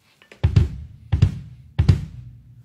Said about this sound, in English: For me, my heel up strokes look like this.